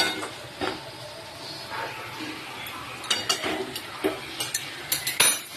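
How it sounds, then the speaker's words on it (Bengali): Chicken masala being sautéed in a pan with a little water added, heard as close, irregular spoon clinks and scrapes against the pan that grow busier toward the end. "আমি কষাবো, আর একটু একটু জল দেবো।"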